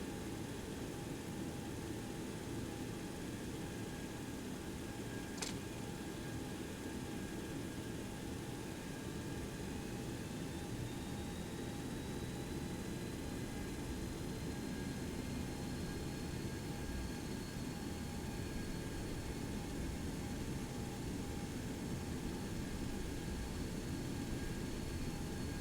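Steady, faint jet engine hum and airframe drone from a Boeing 727-200 taxiing to the terminal at Ust-Kamenogorsk in a flight simulator, continuous and unchanging throughout, with one brief high tick partway through.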